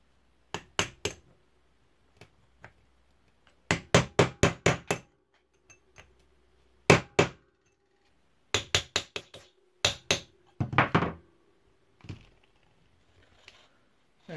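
A hammer strikes a punch set in the notch of a rusty Sturmey Archer three-speed hub, in clusters of sharp metallic taps and short quick runs separated by pauses, close and crisp; no talking.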